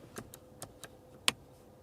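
Physical seat-heating buttons in a Toyota or Lexus cabin being pressed, giving a series of crisp, separate clicks at an irregular pace, close and fairly quiet, with a sharper click near the end and no talking.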